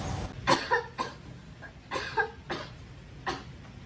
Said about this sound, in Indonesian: tiba-tiba ibunya batuk dan sesak napas.